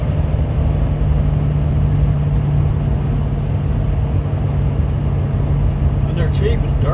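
A Class C motorhome climbing a steep mountain grade toward a divide, with its engine holding a steady, loud, continuous low drone and road rumble throughout, and no voices over it.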